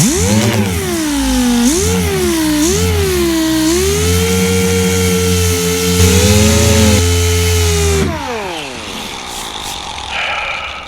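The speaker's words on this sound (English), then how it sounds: "I'm going to unlock this, that way it'll spin on both axes of the DA" A dual-action sander stripping paint from a Mach 1 car door, whining loudly with pitch rising and dipping as it spins up and loads, then winding down near the end.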